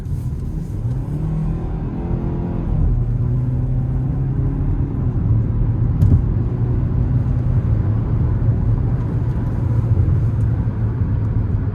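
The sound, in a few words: Hyundai Tucson SEL accelerating hard in sport mode onto interstate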